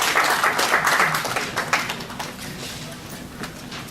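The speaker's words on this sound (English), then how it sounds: "An applause, please." An audience applauding at an association's annual general meeting in Rome, a dense burst of clapping that is loudest at the start and thins gradually over a few seconds.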